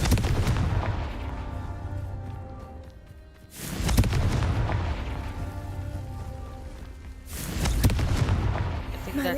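Confringo blasting spell explosions in the Hogwarts Legacy video game: two loud, sharp blasts a few seconds apart, each followed by a rumbling decay, with faint game ambience between them.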